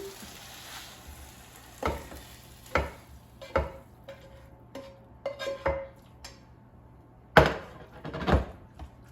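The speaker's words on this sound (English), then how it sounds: "So let's just take it out from the frying pan." Utensils scrape and clack against a frying pan in a series of irregular knocks, with a faint sizzle underneath as ground beef and eggplant are lifted out.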